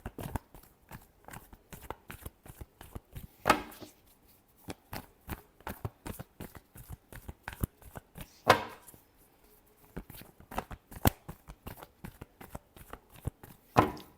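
Tarot cards are shuffled in quick, crisp riffles and taps, a steady run of close, light card slaps with brief pauses between handfuls and no talking.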